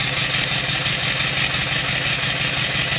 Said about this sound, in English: I'll turn up the steam a little bit and it'll go faster.